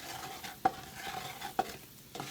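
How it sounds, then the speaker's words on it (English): A utensil stirs a roux cooking in hot bacon grease for gumbo, giving faint soft scrapes and a couple of sharper taps against the pot over a quiet sizzle. "this is my favorite part, stirring my roux"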